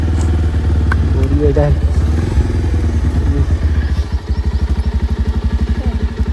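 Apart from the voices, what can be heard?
motorcycle engine running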